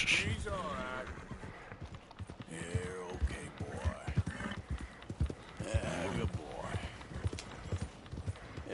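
Video game horse hooves clip-clop steadily while voices talk over them, with a brief snort or whinny mixed into the hoofbeats.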